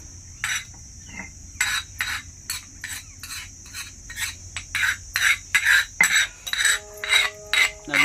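Onion being ground by hand on a stone, a rhythmic series of scraping, rubbing strokes repeating steadily, close and fairly loud, with no talking.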